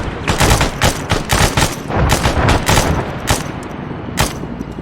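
Video game gunfire: loud, close bursts of automatic weapon fire crackle in rapid, overlapping volleys with brief gaps between strings of shots.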